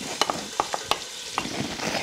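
Onions sautéing over medium heat in melted butter and olive oil, a soft sizzle broken by several sharp clicks and scrapes of stirring, close and moderately loud with no voices.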